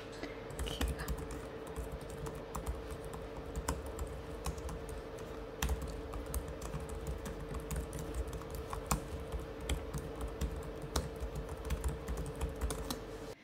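Typing on a light Microsoft compact Bluetooth keyboard, a steady run of soft, quick key clicks close to the microphone in a quiet room, with no talking.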